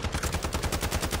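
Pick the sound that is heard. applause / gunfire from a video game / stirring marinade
gunfire from a video game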